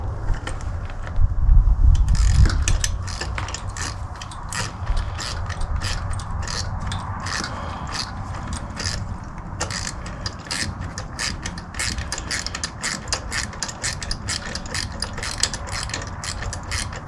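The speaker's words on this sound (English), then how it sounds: "We are ready to bolt everything back up tight again." A hand ratchet tightens bolts on a Bomag BMP 8500 compactor, a long, steady run of rapid, evenly spaced metallic clicks close up, with a brief louder clatter near the start.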